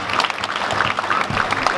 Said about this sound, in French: On nous applaudit Pasteur Claude Sanon.